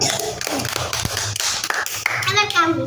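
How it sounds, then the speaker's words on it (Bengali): Second-grade children clapping hands in a classroom during a word-building game, a short burst of claps mixed with taps, with children's voices talking over it. "ভেরি গুড, একটা হাততালি দাও।"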